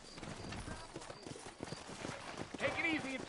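Horse hooves clip-clop in a steady trotting rhythm on a town road in Red Dead Redemption, moderately close, with characters talking over the hoofbeats and a brief whinny near the end.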